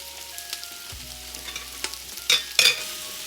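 Onions frying in a pan, seasoned with salt, pepper and garlic for a classic chili, give a low steady sizzle with faint stirring scrapes and a couple of louder bursts near the end.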